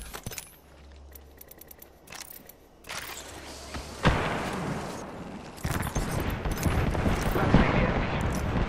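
Gunfire in the video game Apex Legends, with bursts of rapid shots and impacts building into heavier, sustained firing toward the end, mixed with game effects and noise.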